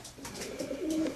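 Soft, low cooing of pigeons close by, a short burst of murmuring calls over faint background hiss.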